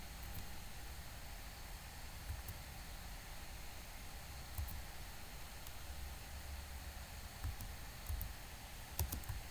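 Typing on a computer keyboard while entering text in a Word document, with soft scattered key clicks over a steady hiss of background noise and no talking.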